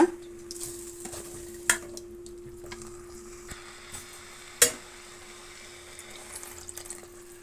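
A bitter gourd mixture with a little added water is stirred in a sizzling pan, with a soft scraping rhythm and a couple of sharp utensil clinks against the metal.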